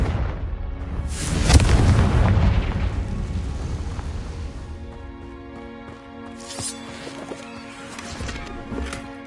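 A Confringo spell explosion in the Hogwarts Legacy video game: a loud deep boom that swells and rumbles for a few seconds, then fades into a steady humming game ambience with faint tonal effects.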